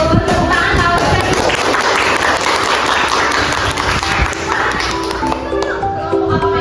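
A classroom of students claps together during a micro-teaching lesson, with dense, even applause and a busy room murmur running through the whole stretch.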